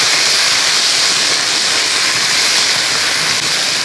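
Potatoes and green chilli sautéing in a pan for a Kerala-style kizhangu theeyal, giving a loud, steady broadband sizzle and hiss with no pauses and no voices.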